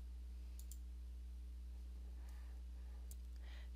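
Computer mouse clicking, a few faint, sharp clicks, two close together near the start and another later, over a steady low electrical hum, with no talking.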